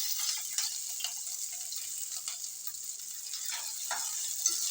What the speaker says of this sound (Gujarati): હવે આપણે લીમડાના પાન નાખીશું અને આપણે આ આદુ મરચાં ખાંડીને રાખેલા છે એ નાખીશું.